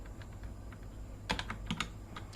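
Keys clatter on a computer keyboard as someone types a few commands into Arch Linux: scattered soft taps, then a brief quick burst of sharper keystrokes, close and quiet over a faint electrical hum.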